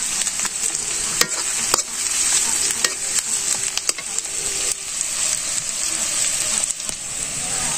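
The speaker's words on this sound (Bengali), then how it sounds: "পেঁয়াজটা আমি আগে ভালো করে ভাজে নেব" Onions frying in a pan for a village-style chicken curry, a steady close sizzle with scattered sharp crackles and clicks of stirring throughout.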